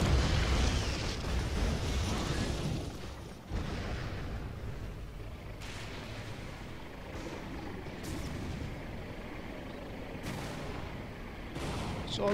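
Athena cannon artillery fire in the real-time strategy game Red Alert 3: a dense, continuous rumble of booming shots and explosions with sharp bursts recurring every couple of seconds, steady and loud throughout.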